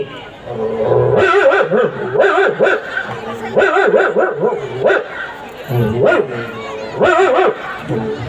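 A dog barks and yips near a house in a steady run of close, loud calls that come in bursts, with short pauses between groups.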